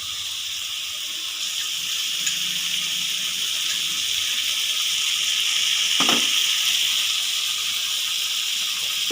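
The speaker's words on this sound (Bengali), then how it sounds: "জল দিয়ে দেবো।" Water pours into a hot pan of home-style keema chana masala, a steady bright hissing rush with a faint sizzle, close and continuous with no talking.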